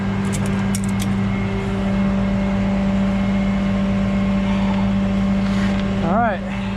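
A Jeep rumbles past with a steady low engine drone that rises and falls as it goes by, heard close under a nearby idling tow truck on a New York street, with a brief jingle of keys near the start.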